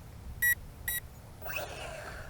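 A VISUO TIANQU XS809W toy drone transmitter gives two short, clear electronic beeps on power-up, followed by a faint swishing rustle, with no talk.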